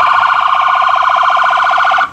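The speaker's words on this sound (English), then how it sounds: "Was that a real alarm" A loud electronic siren outside Hutchins jail near Dallas, Texas warbles rapidly and steadily for about two seconds, then cuts off abruptly.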